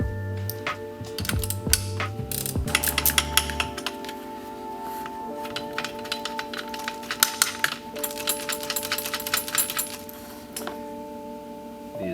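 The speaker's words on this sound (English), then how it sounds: "12mm wrench and sockets." A 12mm ratchet wrench clicks steadily as it backs off the seat rail nuts on a 2020 fifth-generation Toyota 4Runner, with rapid pawl ratcheting up close and a few metallic clinks, continuous for the whole stretch.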